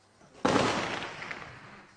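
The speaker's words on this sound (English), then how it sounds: "They still live with the gunfire," A single loud, sharp report of outgoing gunfire at an army defence position in Sudan, a sudden crack that decays over about a second in otherwise quiet surroundings.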